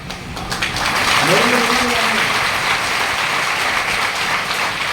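Audience clapping at a training seminar in Kanpur, a sustained broadband wash of many hands, fairly loud and steady throughout, with a voice calling out briefly partway through.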